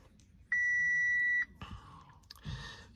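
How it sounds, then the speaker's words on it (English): An Audi with a tiptronic signal fault gives a single steady electronic beep lasting about a second while a diagnostic scan runs through its modules, followed by a few faint clicks. "She does a bit of that beeping at times when it's running through modules."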